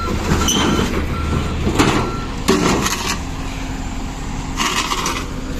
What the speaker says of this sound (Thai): ผมก็จะขับหกล้อไปนะครับผม